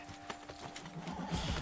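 A horse in Assassin's Creed Brotherhood clops with irregular hoofbeats and gives a brief whinny, heard fairly faint with a low mechanical hum underneath.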